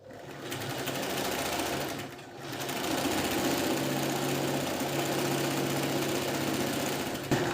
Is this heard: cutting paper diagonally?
no